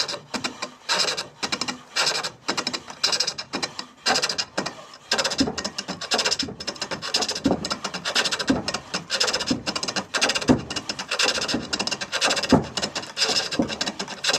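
A hand tool hollows a wooden workpiece turning on a pole lathe, producing busy, choppy scraping and rasping with uneven rhythmic bursts as the wood spins back and forth, close and fairly loud throughout.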